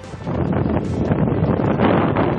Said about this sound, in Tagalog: Binayo rin ang malakas na hangin ng ilang lugar sa Ilocos Norte.